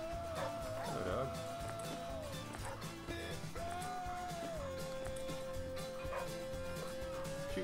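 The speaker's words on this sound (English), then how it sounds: "Hello, dog." A dog in the video game The Flame in the Flood gives short yips and whimpering barks over a droning background music bed, with a couple of bursts close together early on.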